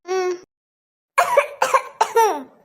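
A short burst of coughing, three or four harsh hacks close together after a brief vocal sound and a pause; close and fairly loud.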